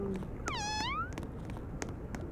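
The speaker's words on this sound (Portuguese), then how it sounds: "Tem que enfrentar esse gato" A cartoonish cat in a haunted-castle Roblox escape game lets out one long, rising-then-falling meow, loud and clear over a faint background hum.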